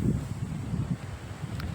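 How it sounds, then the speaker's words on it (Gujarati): Strong gusting wind from a rainy village mini-storm buffets the microphone in a continuous low, rushing roar. "અત્યારે પણ એવો જ પવન ફૂંકાઈ રહ્યો છે"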